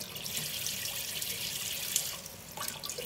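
A melon is washed under a running kitchen tap, a steady close rush of water with soft splashing and shifting as the fruit is turned, with no talking.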